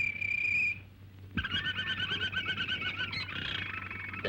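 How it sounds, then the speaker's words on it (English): A canary sings in a 1936 film scene, starting with a clear whistled note and then moving into a rapid trilling warble over a low background hum. The song is fairly close and carries steadily. "Perhaps I can make him sing."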